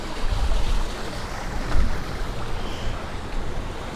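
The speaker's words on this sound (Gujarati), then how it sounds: "જો આ પાણીનું ઝરણું મિત્રો જો અહીંથી વહી રહ્યું છે" A stream of water flows through a rocky river canyon at Kadiya Dhro in Kutch, making a steady broad rushing wash with mild wind buffeting and no talk.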